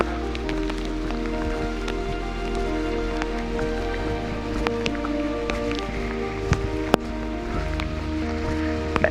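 Light drizzle in the Dolomites near Rifugio Cavallera, a soft steady patter of raindrops with scattered close drips and taps over a faint outdoor hush.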